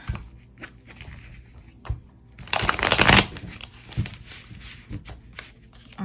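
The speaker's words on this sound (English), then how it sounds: "Let me shuffle these." Tarot cards shuffled by hand: scattered soft taps and slides, then a dense riffling burst in the middle before a few quieter shuffles.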